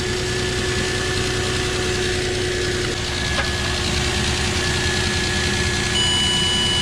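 A Nissan Frontier pickup engine idles at a close, even, steady hum with faint vibration and no change in speed, with no voices.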